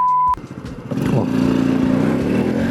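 A Honda Super Cub 110 motorcycle with a 110cc engine pulls away hard in first gear. A short beep comes first, then the engine note rises and revs steadily nearby.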